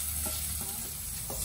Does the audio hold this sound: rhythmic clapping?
no